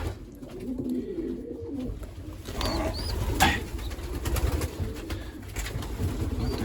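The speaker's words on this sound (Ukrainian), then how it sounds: "Дивіться, який голуб." Soft, low coos from a young pigeon chick sound close by over a steady background murmur, with a few brief higher chirps mixed in.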